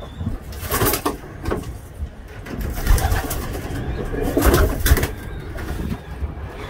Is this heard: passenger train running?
no